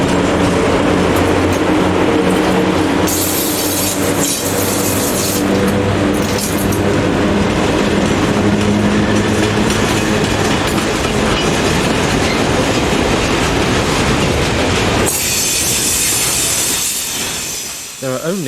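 A freight train hauled by an ET22 locomotive rolls past on rails, loud and near, with a continuous rumble, clickety-clack of wagons and hiss, fading and changing at the end as the last cars go by.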